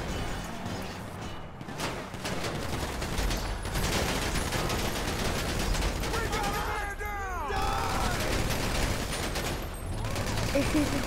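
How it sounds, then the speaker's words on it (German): Video game gunfire, dense rattling bursts of shots and crashes running almost continuously, with brief pauses and a voice talking over the action. "Ich schieße sie gerade ab."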